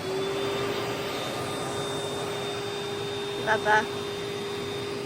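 A Hoover vacuum cleaner runs continuously in a home with a cat nearby, a steady droning whir with a high whine throughout, close and loud, while a person briefly speaks near the end.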